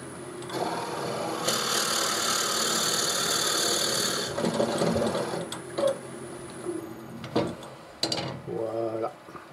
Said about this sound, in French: percer mon trou comme il faut